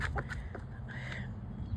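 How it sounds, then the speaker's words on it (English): Chickens near a house give a few short, soft clucks close by over a low, steady background rumble. "They're chickens."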